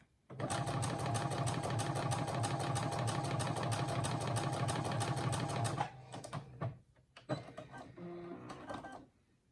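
Brother SE1900 sewing machine running a zigzag stitch, a rapid, even mechanical clatter for about six seconds, close and steady, then stopping and giving way to scattered lighter clicks and handling noises.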